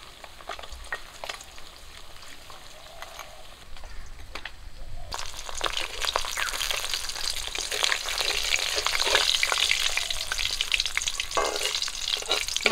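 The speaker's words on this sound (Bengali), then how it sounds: "মাছগুলো ভাজা হয়ে গেছে" Pabda fish frying in oil in a home kitchen pan, a steady close sizzle and crackle that swells louder and denser about halfway through and keeps hissing without any talk.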